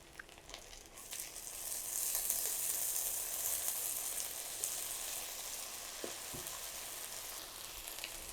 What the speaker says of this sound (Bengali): পেঁয়াজটাকে আমি একটু ভালো করে ভেজে নিব, একটু লাল লাল করে ভাজতে হবে পেঁয়াজটাকে